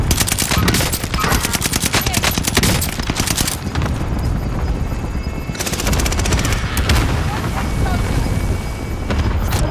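Rapid bursts of automatic gunfire crackle close by in a video game, dense volleys filling the whole stretch with brief lulls between strings of shots.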